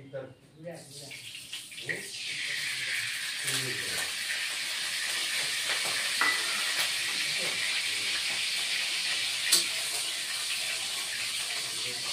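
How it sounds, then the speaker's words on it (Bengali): Oil heating in a kadai for a rohu and tomato dish sends up a steady broadband sizzle and hiss that starts after a brief rustle and carries on close and fairly loud for most of the stretch. "কড়াইতে তেল দিয়ে দিই।"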